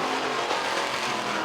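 Late model race cars running on a dirt speedway oval, a loud continuous engine roar with rasping high-revving texture, close and steady throughout with no pauses.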